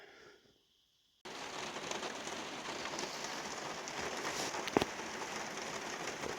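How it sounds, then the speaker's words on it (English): After a quiet moment, steady rain suddenly swells in, a dense, close hiss of drops pattering on surfaces, with one sharper tap near the end. "Oh, the rain came."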